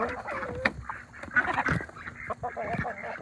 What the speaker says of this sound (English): the chicken come out.